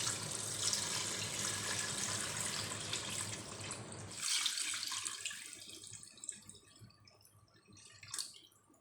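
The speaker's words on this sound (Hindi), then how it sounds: "4 लीटर पानी का डालेंगे। अभी मैंने 2 लीटर डाल दिया है।" Water is poured into a cooking pot while making haleem, a steady splashing gush that cuts off halfway, followed by lighter drips and a final trickle.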